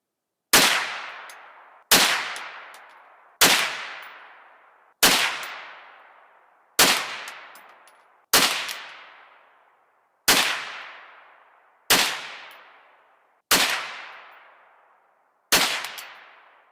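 Ten sharp rifle shots from a CZ 512 or Savage A22 firing Federal 50 grain jacketed hollow point Game Shock .22 WMR rounds, evenly spaced about every one and a half seconds, each a loud crack with a ringing decay.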